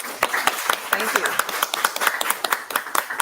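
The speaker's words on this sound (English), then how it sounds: "we're going to clap our hands again" A conference audience claps their hands in a steady, dense patter of many close, sharp claps that carries on throughout without a break.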